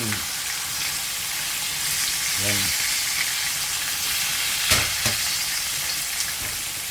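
Flour-dusted salmonete fish frying in a pan, a steady close sizzle and crackle of hot oil with a few brief clinks, and a voice speaking softly at the very start.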